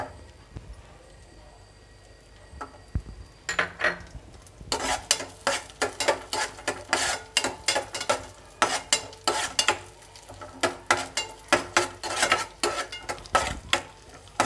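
Raisins are stirred and fried in a pan while making carrot halwa, with a steady rhythm of spoon scrapes and clinks against the pan over a soft sizzle.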